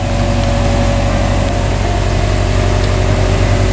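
A Subaru WRX engine with an exhaust leak idles close by, a loud, steady low rumble with an even rhythmic pulse throughout and no voices.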